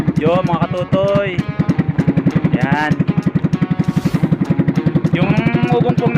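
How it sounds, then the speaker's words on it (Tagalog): Aboard a wooden bangka on a beach trip, the boat's engine drones in a steady, rapid chugging pulse, loud and close, while someone talks over it. "Yung ugong pong naririnig nyo, yung makina po ng bangka yun."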